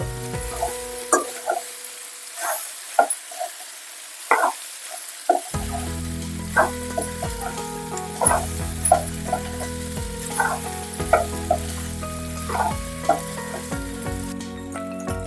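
Pasta being stirred and mixed in a hot pan for a spicy gongura pasta curry, with steady frying sizzle and repeated scraping, clattering stirs in a close, uneven rhythm, no talking.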